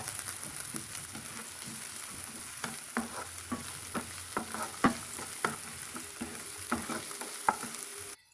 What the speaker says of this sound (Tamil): பீன்ஸ் போட்டுக்கிறேங்க கேரட்டு போட்டுக்கிறேங்க முட்டைக்கோஸ் போட்டுக்கிறேங்க எல்லாத்தையும் போட்டு கலந்து விட்டுக்கலாங்க